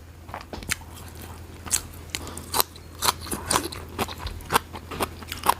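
Old, hard djenkol beans (luk nieng) bitten and chewed right at the mouth, a series of sharp crunches and crackly bites in an irregular rhythm, close and loud, no speech.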